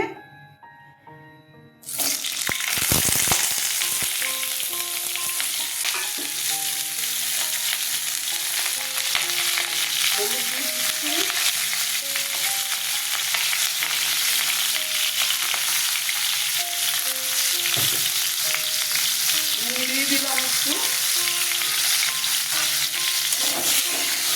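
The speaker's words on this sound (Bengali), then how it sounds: "হয়ে গেছে কপিগুলো ছেড়ে দিচ্ছি" Cauliflower florets frying in a pan for a Bengali phulkopir dalna, a loud burst of sizzling as they go into the hot oil, then a sustained close crackle with stirring scrapes and no speech.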